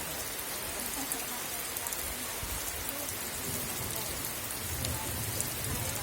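Steady rain falls on a rural Sri Lankan village where a herd of cows stands grazing, a dense even patter with occasional sharper drips and a faint low rumble underneath.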